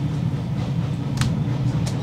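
Heritage train on the North Yorkshire Moors Railway rolling between stations, a steady low rumble of wheels and carriage with brief hissing bursts, heard from inside the coach with no talk.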